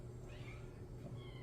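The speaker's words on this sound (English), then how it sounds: "I apologize if you hear a cat meowing in the background." A young pet kitten gives faint meows in the background, partly buried under a steady low indoor hum with no talk.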